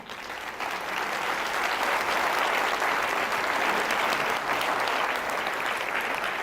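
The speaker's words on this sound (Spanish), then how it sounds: "dar un aplauso al Señor" A church congregation applauds the Lord during a Spanish-language sermon, a thick, sustained roar of many clapping hands that rises within the first second and stays even throughout.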